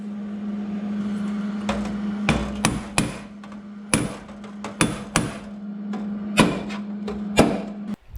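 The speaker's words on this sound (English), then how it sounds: "take the hammer and the punch and tap the metal in tight" Sharp metallic hammer taps on a punch, tightening a replacement rocker panel on a Mercury Sable station wagon after stitch welding, in irregular bursts of one to three strikes, over a steady low electrical hum.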